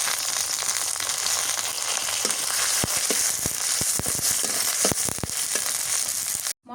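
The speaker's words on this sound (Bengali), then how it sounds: "মশলা আর পেঁয়াজ ভাজা হয়ে গেছে।" Chopped onion with bay leaf, cinnamon and black cardamom fries in hot oil for a mutton curry, a loud continuous sizzle broken by sharp crackling pops and stirring, then a sudden cutoff near the end.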